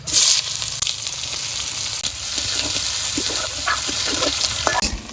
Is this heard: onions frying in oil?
yes